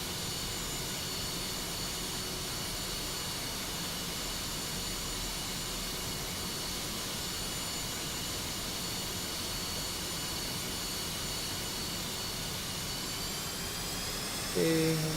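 F-5E jet engine idling before taxi in the DCS flight simulator, a steady whining hum with a high tonal whistle, unchanging for the whole stretch until a brief louder blip at the very end.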